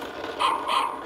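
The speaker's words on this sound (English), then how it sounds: "This is a dog." Two quick, bright barks from a small pull-string toy dog, close and clear, with a tinny, electronic tone.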